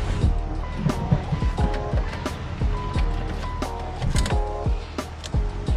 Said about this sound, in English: I crank the motor 10 times and I hold my foot down on the throttle